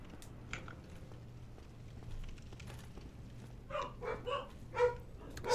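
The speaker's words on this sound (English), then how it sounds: "Stop barking." Dogs in Dark Souls Remastered give a short burst of several sharp barks and growls toward the end, following quieter scuffling and low game ambience.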